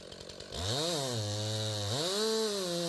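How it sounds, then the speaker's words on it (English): Chainsaw cutting into a dead tree: a brief quiet start, then the engine snaps up to a loud, steady whine that dips as the chain bites and revs back up, close and alone. "Always let the chainsaw do the work for you."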